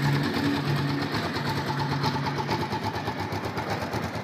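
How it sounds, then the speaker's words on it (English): A 2006 Kawasaki Ninja 500 sport bike with 6138 miles runs steadily nearby, giving a fast, even, buzzing engine pulse with no talking. "Bike runs great."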